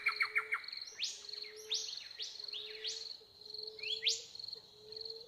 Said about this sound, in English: I'm going to begin with a little bit of birdsong.